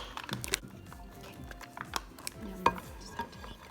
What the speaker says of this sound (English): You're stirring, unicorn.